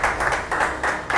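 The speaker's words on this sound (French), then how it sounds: "On applaudit très fort pour Étienne." Applause from a competition-final audience for a singer, a dense wash of clapping that pulses in waves, swelling and easing roughly every half second, loud and close with no voices.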